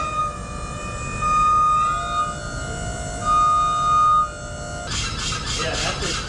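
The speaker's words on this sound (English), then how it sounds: "that squeaking noise you're hearing, that is the machine drifting down" A JLG lift drifting down while in for service with a drifting-down fault, giving off sustained high squeals and whines that shift in pitch and carry on through the clip, with chattering noise near the end.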